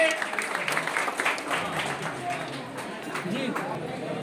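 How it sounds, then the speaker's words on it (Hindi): An audience claps for a member of parliament at a foundation event, a dense burst of applause that stays steady throughout with a voice on a microphone talking over it. "राजेश रंजन उर्फ पप्पू यादव, एक जोरदार ताली होनी चाहिए सर के सम्मान में"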